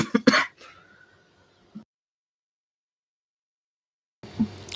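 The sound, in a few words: coughing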